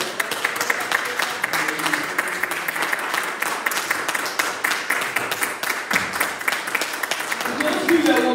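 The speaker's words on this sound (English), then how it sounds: "Let's give the Lord a clap offering this morning." Church congregation clapping together during worship, a steady rhythmic stream of hand claps at moderate loudness, with voices mixed in.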